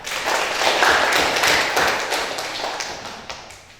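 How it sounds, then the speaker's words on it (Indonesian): A classroom of students in an Indonesian lesson claps for a classmate, a dense, close burst of many hands that stays steady and then tapers off over a few seconds, with no talking. "Tepuk tangan untuk Farel."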